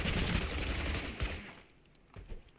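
DMR marksman rifle fire in Totally Accurate Battlegrounds, a rapid burst of loud cracks that trails off, followed by a couple of fainter isolated shots.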